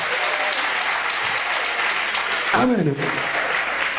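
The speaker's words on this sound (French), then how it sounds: "Applaudis encore pour toi-même" A church congregation applauds in a dense, steady roar of clapping throughout, with a voice briefly calling out over it near the middle.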